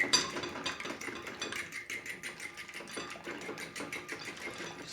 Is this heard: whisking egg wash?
yes